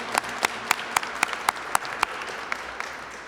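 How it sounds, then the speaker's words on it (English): An audience at an after-school programs event claps in scattered, sharp individual hits, a sparse and modest round of applause that stays fairly faint. "That deserves a great round of applause for everyone that's here in attendance."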